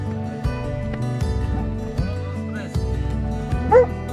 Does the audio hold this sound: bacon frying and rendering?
no